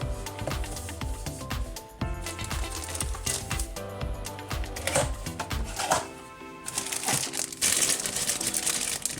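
Close, continuous crinkling and rustling of plastic and cardboard packaging as Xiaomi Superbass headphones are unboxed, with dense irregular crackles over a musical background.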